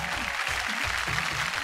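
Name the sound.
loud applause from audience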